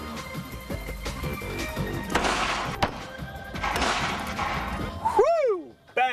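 Rapid gunshots strike a pane of one-way bullet-resistant glass, producing sharp cracks and heavy thuds amid clattering impacts, followed by a brief ringing tone at the end.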